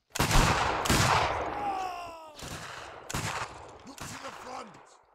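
Repeated musket volleys in Mount & Blade Warband (Anglo Zulu Reloaded): several loud, ragged bursts of massed gunfire in quick succession, with whistling tones and a faint groaning voice between shots.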